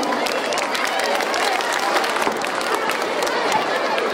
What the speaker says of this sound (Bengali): করতালি দিয়ে আপনারা অভিনন্দন জানাবেন